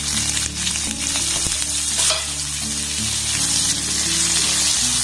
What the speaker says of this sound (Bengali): এবার পেঁয়াজটাকে একটু হালকা লাল লাল করে ভেজে নেব।